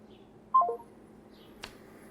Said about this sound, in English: Please leave your name and phone number after the beep.